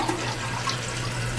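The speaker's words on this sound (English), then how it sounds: "Slowly open the water supply line and let your tank fill, checking for leaks along all the points of connection until the tank is completely full." Toilet tank filling with water from its supply line, a steady rushing hiss of water with a low hum underneath, close and constant throughout with no voices.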